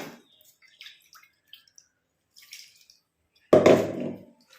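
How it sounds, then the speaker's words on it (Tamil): Water is poured into a bowl to rinse out leftover herbal hair-dye paste made with curry leaves and triphala, a short close splash after scattered faint drips and quiet handling sounds. "நம்ம இன்னும் கொஞ்சம் கூட இதில் தண்ணி ஊற்றி அலம்பி ஊற்றிக்கலாம்"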